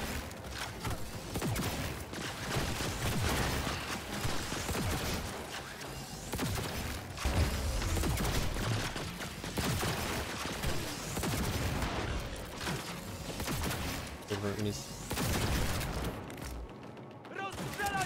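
Rapid bursts of Cyberpunk 2077 gunfire crackle almost continuously, with shouting voices mixed in over the shooting.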